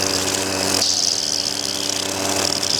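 Petrol string trimmer running with too much cutting line over a long stretch, its engine laboring in a loud, steady drone with a slight drop in pitch partway through.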